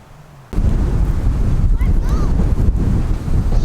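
Strong wind gusting across an open ranch, a loud steady roar of buffeting against the microphone that kicks in abruptly after half a second and continues without pause.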